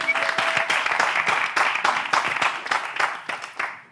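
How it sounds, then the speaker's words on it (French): An audience claps for Masfaya: a full, lively round of applause with rapid, overlapping hand claps, loud and close, sustained for several seconds before tapering slightly at the end. "On applaudit pour Masfaya."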